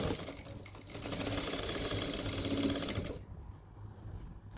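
A sewing machine stitches a belt onto a farshi salwar with a close, fast rattling run that lasts about three seconds and then stops abruptly, leaving quiet room tone.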